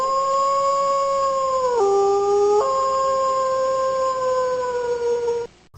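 A single wolf howls long and loud, a sustained wavering tone that dips once and rises again before cutting off, with no other sounds around it.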